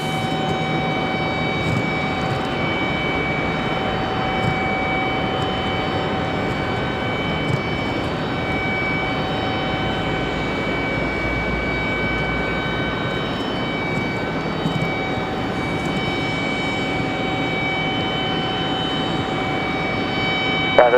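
American Airlines Boeing 737 airliner jet near Raleigh-Durham International Airport, a steady broadband engine roar with a sustained whine, holding at an even level for the whole stretch without any talk.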